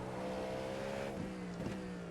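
A Cadillac V-Series.R race car in the iRacing simulator at Road America screams along with a sustained high engine note, its pitch shifting between gears across a couple of seconds, heard alone without speech.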